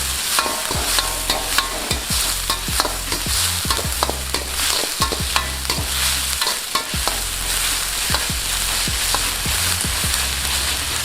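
Shallots, onions, green chillies and ginger-garlic paste fry in a pan for fish chukka, a steady loud sizzle broken by repeated scraping stirs and clinks of a spoon, with no voices.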